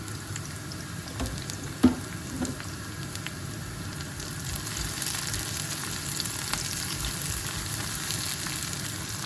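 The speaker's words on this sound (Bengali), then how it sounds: "পেঁয়াজটা হালকা ভেজে নিব।" Onion and green chillies fry in a pan with a steady, close crackling sizzle and an occasional sharper pop, quiet and even throughout with no talking.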